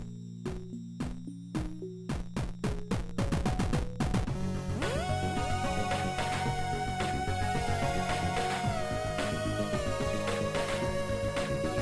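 Electronic music from a Sonicware Liven 8bit Warps synthesizer builds with hits coming faster and faster, then drops into a dense beat with a sustained lead synth melody soaring on top.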